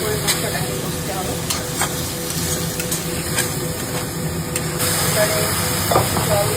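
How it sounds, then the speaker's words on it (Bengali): Ground coriander, cumin and chili powder with a little sugar being sautéed for mutton kosha, a close, steady sizzle with brisk stirring scrapes and a few sharp clicks throughout. "ভালো করে মশলাটাকে কষতে হবে"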